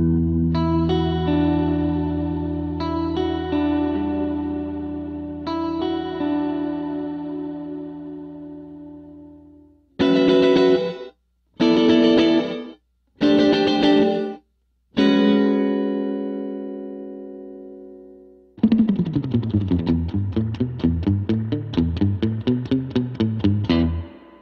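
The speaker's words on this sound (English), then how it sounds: "Mode allows the digital reverb to sound like different kinds of reverb" Electric guitar through a Boss RV-5 digital reverb pedal playing sustained chords and short stabs, each note washed in lush, lingering reverb tails, ending with a rippling arpeggiated passage; no voices.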